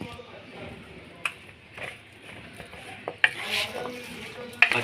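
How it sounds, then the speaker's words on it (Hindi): Raw potato chips being tossed with maida and cornflour in a bowl, soft scraping rustles with a few sharp clicks of a utensil against the dish, close and fairly quiet, with a faint voice in the background. "अच्छे तरीके से आपने इनको मिक्स कर लेना है।"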